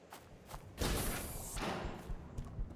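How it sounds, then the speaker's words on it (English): A grenade launched in a Half-Life 1 total-conversion mod, Diffusion: a soft thump followed by a muffled burst and a lingering rumble, fairly faint and a little distant. "He just fired a grenade."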